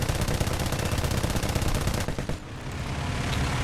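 Rapid, loud, continuous bursts of aircraft machine-gun fire from a J6B in War Thunder air arcade, with a brief gap after two seconds before firing resumes.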